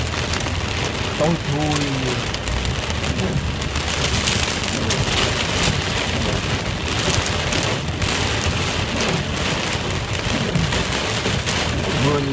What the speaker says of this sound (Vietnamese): Mưa như bão vậy đó.